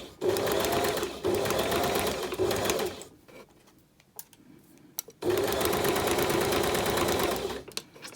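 A sewing machine stitches thin fabric in two steady, fast runs of rattling needle hum, broken by a short quiet pause, loud and close.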